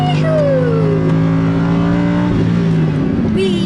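A 2015 Lamborghini Huracán LP 610-4 accelerates hard from inside the cabin, its engine note rising loudly through the gears with a short shift near the end.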